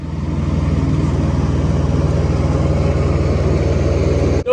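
Chinese mini excavator engine running at steady throttle with a loud, even diesel chug while its dozer blade pushes dirt, a short clank at the very end.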